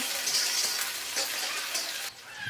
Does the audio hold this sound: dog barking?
no